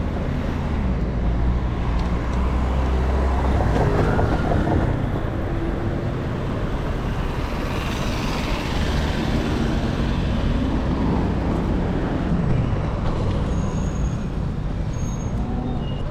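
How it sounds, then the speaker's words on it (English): Tram 3A rumbles past along a busy street in Paris, its low mechanical drone and rolling noise mixing with steady traffic sounds. "Another tram."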